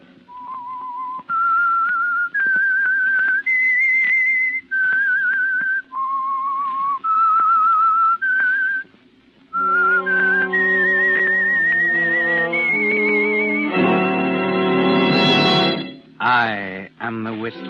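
The theme of 1940s radio mystery show The Whistler is whistled clearly, note by note in a steady melodic line, then joined by a sustained chord and a rising orchestral swell at the end.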